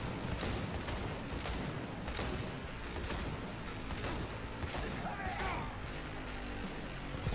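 Rapid gunfire in the Cyberpunk 2077 video game, a dense fusillade of shots with crashing impacts running continuously at steady loudness throughout.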